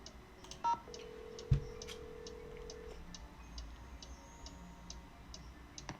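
Telephone dialing in the Nancy Drew video game The Curse of Blackmoor Manor: a couple of keypad tones, then a long steady tone, followed by a faint, steady ticking throughout.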